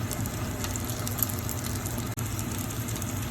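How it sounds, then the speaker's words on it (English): A steady, dense sizzle of pork belly frying in a pan, continuous and close, with a faint low hum underneath and one brief dropout. "You can just hear the sizzling."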